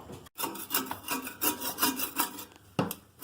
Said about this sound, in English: we've got a putty knife here, and we're just cleaning all the caulk off